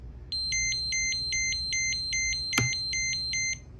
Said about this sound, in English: we should hear a buzzer.